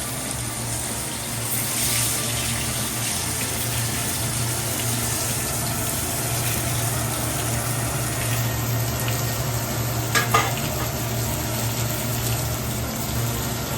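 Pomfret coated in rice flour fries in a pan of oil, giving a steady, close sizzle with a constant low hum underneath and a brief louder crackle near the end, with no voices.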